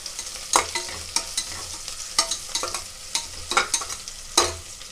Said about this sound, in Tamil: அது வெங்காயம் நல்லா வதங்கட்டும்.